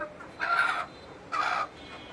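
Desi chickens cluck twice in short bursts at moderate distance, each call lasting under half a second, against a quiet background.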